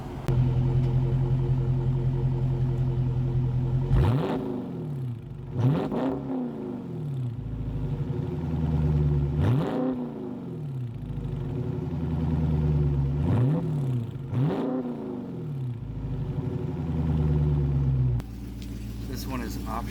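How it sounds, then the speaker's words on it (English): A 2019 Dodge Charger 392 Daytona V8 idles with a deep, loud burble and is blipped into several sharp revs that rise and fall back, recorded up close near the ground. "Put my phone on the ground for a second, get a couple revs."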